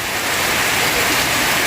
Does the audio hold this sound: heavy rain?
yes